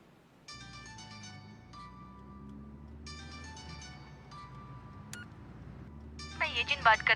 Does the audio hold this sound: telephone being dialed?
yes